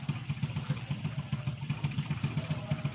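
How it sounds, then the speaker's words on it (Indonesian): A motorcycle engine idles close by with a fast, even pulsing chug and a slight mechanical clatter, steady and fairly loud with no speech over it. "orang lagi naik motor."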